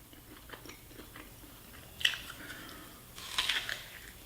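Close crunching as a jawbreaker candy is bitten and chewed, with a sharp crack near the middle followed by a longer grinding crunch, set against quiet mouth noises.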